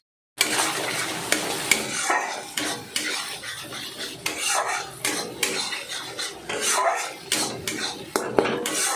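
Tomato with ginger, cumin and green chilli paste stirs and fries in a pan, with a soft steady sizzle under repeated scraping and clinking of a spatula against metal, close up and without talk.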